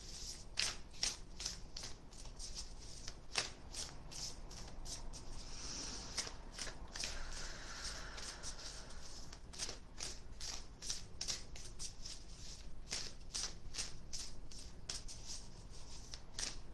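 Tarot cards are shuffled close by, giving soft, quick riffling and slapping clicks that repeat in an irregular rhythm against a quiet room.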